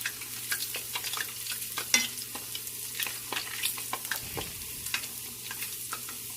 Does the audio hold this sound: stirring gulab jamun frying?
yes